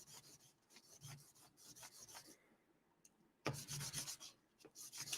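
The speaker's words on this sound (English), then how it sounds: "Getting this part ready. This is 1200 grit. I'm going to hit this with 3000." A metal lightsaber part is sanded by hand with 1200 grit sandpaper, a quiet close rasping rub in repeated back-and-forth strokes, pausing briefly before resuming louder.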